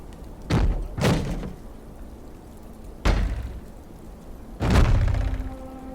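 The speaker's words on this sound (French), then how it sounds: "Lorsqu'ils eurent enfoncé la porte" A wooden door being forced open in a dark fantasy audiobook scene: three heavy thuds, the second a double impact, each a loud close slam or splintering bang with short decay, separated by quiet pauses.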